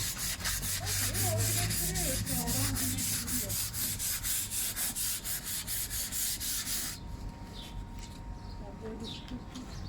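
Hand sanding of a rough wooden ammunition box surface gives a steady, close, rhythmic rubbing scrape that continues for several seconds and then stops, with faint bird coos in the background.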